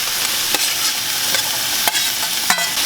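Sliced zucchini and onion stir-fried in a hot pan for Korean ganjajang, a steady sizzle broken by a few sharp scraping stirs of the spatula, close and with no talking.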